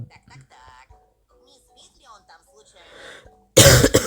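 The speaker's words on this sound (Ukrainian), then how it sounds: "вибачаю за кашель" Quiet, scattered voice sounds give way to a sudden loud burst of coughing close to the microphone at the end, over Schoolboy Escape 2 gameplay.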